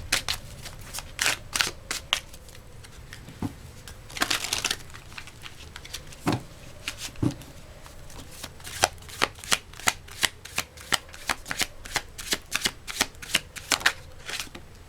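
Tarot cards are shuffled by hand in quick, crisp bursts of riffling and flicking, close and fairly loud, with the pace picking up toward the end.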